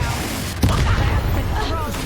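Fiery spell blast from Hogwarts Legacy combat, a sharp boom around half a second in with a broad crackling burst and rumble, surrounded by dense battle noise and other game effects.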